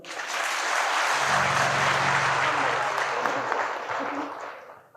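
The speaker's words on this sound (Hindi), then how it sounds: "आनंद आया तो ताली बजा दे।" A crowd claps together at a gathering, a full burst of applause that swells, holds steady and then fades out, with a low murmur of voices underneath.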